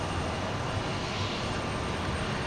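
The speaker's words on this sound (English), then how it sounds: "That looks to be a United Express flight 5478. This one's going to Wichita, Kansas." United Express passenger jet flying at Houston Intercontinental airport, a steady broadband engine roar that stays loud and constant throughout with no talk.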